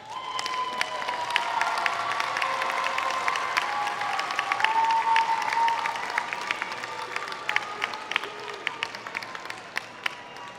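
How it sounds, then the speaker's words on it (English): Broad, sustained applause fills the arena at a Muskegon Community College commencement ceremony, with many hands clapping and light crowd noise, a few sharper individual claps standing out against the steady roar. "give them a hearty round of applause"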